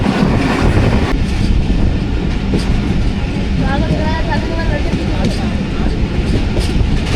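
A passenger train rolls through Bholari railway station between Karachi and Lahore, a loud, steady rumble of wheels and carriages with faint squeals of wheels on track, heard close from onboard.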